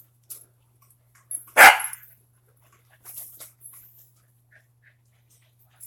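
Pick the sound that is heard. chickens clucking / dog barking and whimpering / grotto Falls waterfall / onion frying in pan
dog barking and whimpering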